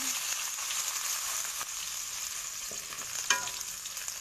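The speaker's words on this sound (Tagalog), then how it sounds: "igisa natin ang luyas. Sunod natin ang bawang." Ginger, then garlic, sizzle and fry steadily in a hot pan, with occasional clicks of stirring; no talking.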